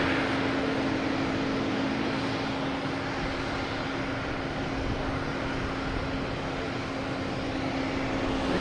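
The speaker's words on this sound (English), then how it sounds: "Oh, we have an A220 starting up." An Airbus A220 airliner's engine spooling up at Boston Logan Airport, a steady, loud broadband roar with a sustained whine running throughout, heard alone without voices.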